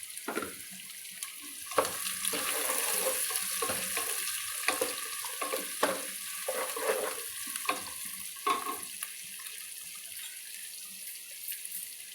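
Onions for a shell-on prawn curry fry in a pan with green chillies, giving a steady bright sizzle with watery hiss and scattered scrapes and knocks from stirring, fairly close and without talk.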